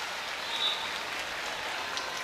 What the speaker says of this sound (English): the Florida State fans are clapping